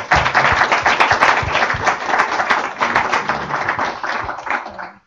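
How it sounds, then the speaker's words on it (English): Steady round of applause for three webinar presenters, dense clapping from a small group that holds level for about five seconds, then cuts off at the end. "Why don't we give a round of applause to our three presenters?"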